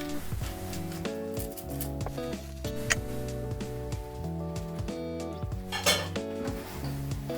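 Metal pots, lids and utensils clink and clatter as a pot of spiced beef samosa filling is covered to simmer, a busy run of close kitchen knocks and scrapes.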